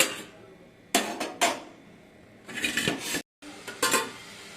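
Metal pot lid clanks and scrapes as a cooking pot of boiling amla is opened and checked: several sharp metallic knocks and rattles, then a brief silence and a few more clinks, close by.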